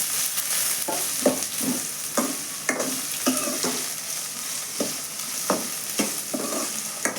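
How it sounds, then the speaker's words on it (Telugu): Chopped drumstick leaves (munagaku) frying in oil for pappu, with a steady sizzle under repeated scraping stirs of a spatula in the pan, close and fairly loud. "ముక్కలు కొంచెం ఫ్రై చేస్తానండి బాగా."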